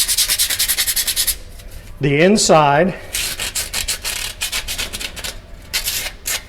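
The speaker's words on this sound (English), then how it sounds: "now we're going to just do a light sanding on this" Rhythmic rasping strokes of light hand sanding on the flat surfaces of a Bravo boat drive fitting, repeated quick passes, with a brief spoken phrase in the middle.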